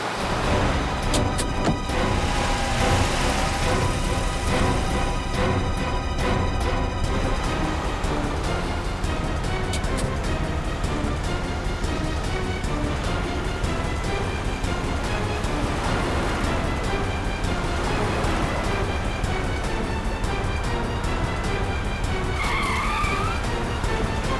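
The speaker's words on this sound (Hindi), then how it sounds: "इस तरह से गाड़ी चला रहा है कहीं किसी को नुकसान ना पहुंचा दे" A car is driven recklessly, with tires squealing and skidding over a continuous roaring engine for a long stretch. The scene is loud and dense, with no speech.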